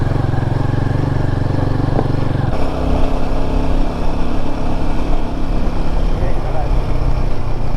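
A Royal Enfield Himalayan 450 motorcycle labors uphill on a rough road, its engine droning loudly and steadily up close amid wind rush, with a gear change partway through and faint voices beneath.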